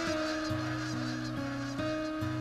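Wild geese honk in a steady, repeated pattern, with a droning musical tone underneath, fairly distinct and continuous over a short stretch.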